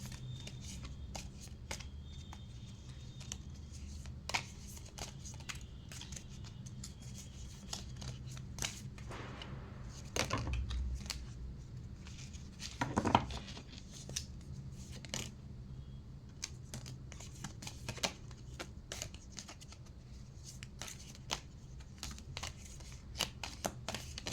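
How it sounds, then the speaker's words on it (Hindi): Tarot cards are shuffled and laid out, giving soft riffles, light snaps and flicks of cards being placed. The sounds are faint and close, spread irregularly across a quiet room with no talking. "पहले मैं सारे cards निकालूंगी, then I am going to start explaining."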